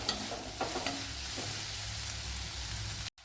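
Onions and salt sauté in a pan, giving a soft continuous sizzle with a few spatula scrapes early on, close and fairly quiet, ending abruptly.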